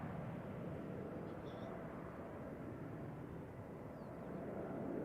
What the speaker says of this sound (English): Alright, time for the United Airlines Star Alliance to SFO.